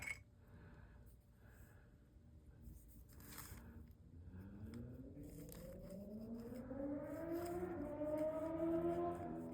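A car accelerates loudly past on a downtown street, its engine note climbing steadily in pitch over several seconds, distant at first and growing nearer and louder.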